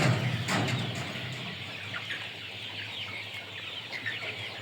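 Chickens and large roosters, said to reach 3.5 kilograms, cluck and murmur steadily at a moderate distance, forming a faint, continuous farmyard chatter with no talking.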